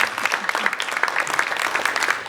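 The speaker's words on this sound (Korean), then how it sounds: "한 박수 한번 주실까요?" Audience clapping at an education roundtable forum in Uiseong County, a thick, continuous wash of applause from many hands, close and steady throughout the short stretch.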